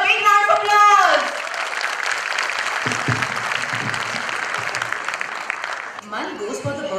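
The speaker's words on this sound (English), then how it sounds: "So parents, give them a big round of applause." Parents applaud at a children's school annual day celebration, a steady wash of clapping lasting about five seconds after a short burst of speech, with a voice returning as it fades.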